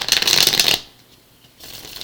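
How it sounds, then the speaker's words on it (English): A tarot deck riffle-shuffled in a quick, crisp burst, then a short pause before a softer second round of shuffling begins. "I'm going to go ahead and shuffle our clarifier deck here"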